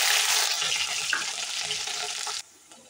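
Green chilies dropped into hot oil already sizzling with cumin seeds give a loud, steady frying hiss that stops abruptly near the end, leaving quieter background.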